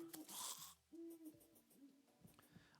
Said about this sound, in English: The Terraria owl sound actually freaks me out.